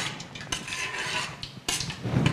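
Boondi being stirred into sugar syrup for boondi laddu, with close scraping and clinking of a spoon against a pot in irregular strokes and a couple of sharper knocks, no talk.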